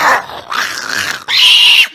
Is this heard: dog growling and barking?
yes